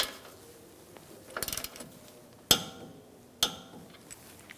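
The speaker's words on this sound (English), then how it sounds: "Tighten up the jam nut. We're going to torque this to 29 foot-pounds." A torque wrench tightens the outer tie rod jam nut on a 2009-2013 BMW 328i xDrive, giving a few sharp metallic clicks and clanks spaced across a quiet garage, with a cluster of rattling impacts in between.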